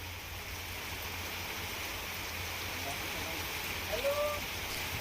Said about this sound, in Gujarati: ધોધમાર વરસાદની શરૂઆત થઈ છે